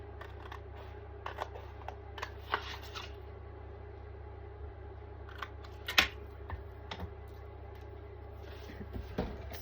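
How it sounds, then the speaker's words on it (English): Scissors fussy cutting a paper sentiment for a handmade Mother's Day pop-up box card, giving soft, intermittent snips and paper rustles close by, with one sharper snip partway through and no talking. "I'm just going to fussy cut this one out."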